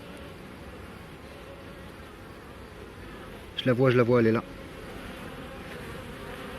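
Young honeybees hum faintly inside a beehive amid brood, while a person speaks briefly in the middle over the low steady buzz.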